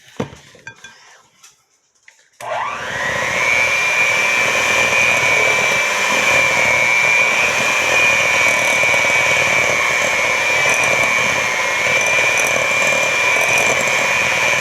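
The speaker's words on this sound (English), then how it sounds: "then you can turn your mixer on. Start with a low setting" An electric stand mixer on its low setting kneads cinnamon roll dough for a giant cinnamon roll, starting after a brief quiet moment, then holding a loud, steady motor whine with a constant hum.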